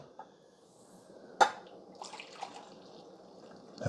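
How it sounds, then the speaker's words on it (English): Coffee poured from a Black + Decker 12 Cup Mill and Brew coffee maker carafe into a cup: a sharp clunk, then soft, faint splashy trickling in a quiet room. "let's pour a cup of coffee"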